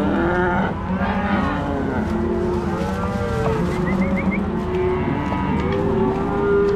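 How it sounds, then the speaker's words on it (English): Cattle moo repeatedly at a working ranch where calves are being moved, several drawn-out bellows overlapping one another amid steady background rumble and livestock commotion. "That is a dumb cow."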